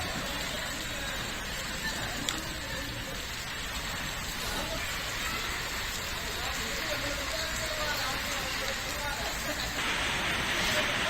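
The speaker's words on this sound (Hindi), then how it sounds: "शाम से बारिश हो रही है" Heavy evening rain pours down on a Rajasthan town where streets are waterlogged, making a steady, loud, even hiss that runs the whole time without distinct drops.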